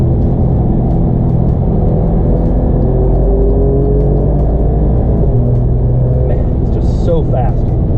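Alfa Romeo Giulia Quadrifoglio on the Beltway, a steady engine rumble with rising drive and road noise across the clip, with someone talking over it.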